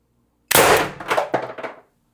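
An Umarex TR50 airgun fires a single 4 gram shaped pellet, a loud close sharp report followed by a short rattling tail of echo and impact that fades within about a second and a half.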